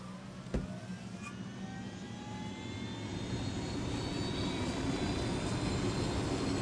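Aircraft engine droning while piloting in Ghost Recon Wildlands, a steady low roar with rising whining tones that grows slightly louder, preceded by a brief click, with no talking.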